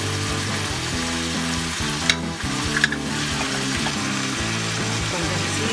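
Green chillies fry in hot oil in a pan for a Tamil-style veg pachadi, a steady broadband sizzle with a few sharp spits and clinks partway through, close and continuous, with no talk over it.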